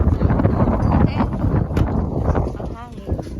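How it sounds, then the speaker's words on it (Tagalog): Wind gusts buffet the microphone at a campsite on a road trip to Wave Rock, making a rough, blustery rumble that rises and falls beneath a person talking. "Ang hangin."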